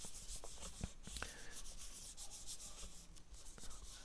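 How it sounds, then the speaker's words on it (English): Finish is rubbed in circles onto the headstock of a Black Limba (Korina) custom Strat guitar neck. The rubbing is faint and soft, with brushing strokes and a few light taps. "Just take it, rub it around in circles. Get to the next one, rub that all around."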